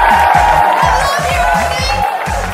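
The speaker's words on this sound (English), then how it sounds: "Please give a big round of applause for your auctioneer, Ernie Paulson!" A loud crowd cheers and claps for an auctioneer at a bluegrass auction, steady dense applause with whoops throughout, close and sustained.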